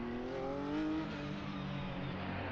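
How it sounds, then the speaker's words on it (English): Porsche 911 GT3 Cup 2017 race car engine in Assetto Corsa on the Nordschleife, a faint droning engine note that rises slightly and then holds steady, with no talking. "So it's the Porsche 911 GT3 Cup 2017."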